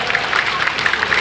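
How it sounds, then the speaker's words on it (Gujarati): Crowd applause for the Banas Dairy chairman at a Sahastra Chandi Mahayagna gathering, a dense, even wash of many hands clapping at once, continuous and fairly loud with no voices on top. "ફરીથી એક વખત જોરદાર તાળીઓ થઈ જાય."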